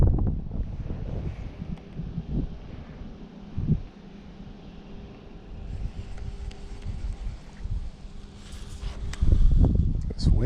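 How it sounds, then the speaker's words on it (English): Strong gusting wind buffets the microphone on a lake while fishing from a boat in northern Michigan summer heat, with steady rumbling roar and louder bursts near the end, brief soft voice sounds in between. "This wind is out of control today."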